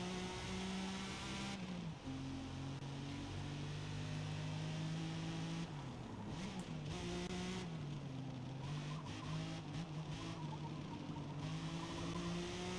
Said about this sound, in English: Dang, I'm about to lap these cars.